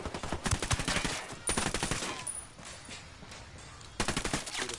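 Rapid bursts of automatic gunfire from the video game Ghost Recon rattle in dense volleys, pause briefly with scattered shots, then resume in a loud closing burst.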